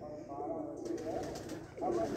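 A male breeder pigeon coos in low, throaty bursts while being handled and shown on a rooftop loft, with a few soft rustles around it.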